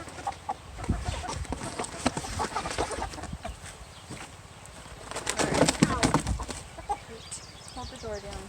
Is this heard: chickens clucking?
yes